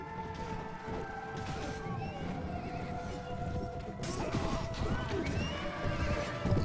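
Horse neighs and whinnies amid clip-clopping hooves and battle clamor in the Mount & Blade: A Clash of Kings medieval combat game, with sustained busy noise that grows louder toward the end.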